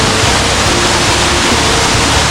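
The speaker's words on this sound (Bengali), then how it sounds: "ফলসের কাছে চলে এসেছি। ওই যে জল নামছে।" Jhinkra waterfall in Odisha pours in a steady, loud, broadband roar of falling water, even and unbroken throughout with no other sounds on top.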